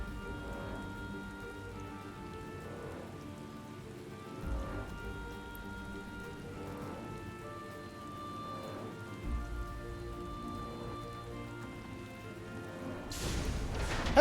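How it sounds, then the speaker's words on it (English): Steady rain falls during a Final Fantasy XIV cutscene, an even patter on surfaces continuing throughout with a low tonal music bed and a brief louder swell at the end. "And of course it's raining."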